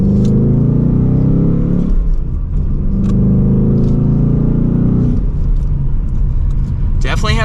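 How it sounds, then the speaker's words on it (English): A 2023 Ford Mustang GT Coupe with a manual gearbox in track mode pulls hard from second gear, its V8 exhaust roaring loud and close through two rising surges, each followed by a brief dip at a shift. "Definitely has a good exhaust note to it in track mode"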